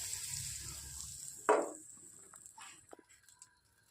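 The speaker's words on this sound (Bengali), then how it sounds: "রসুন একটু ভেজে করে বাটার দিয়ে দেবো, তাতে একটু রসুন দিয়ে দেবো, রসুন কুচি দিয়ে দেবো" Chopped garlic frying in butter in a pan for momo and soup, a soft steady sizzle up front, then a sharper burst of crackle as it stirs, fading quieter toward the end.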